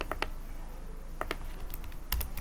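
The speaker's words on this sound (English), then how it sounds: "Let me type this." Quiet typing on a computer keyboard sounds as a few scattered clicky keystrokes in small clusters over a low background hum.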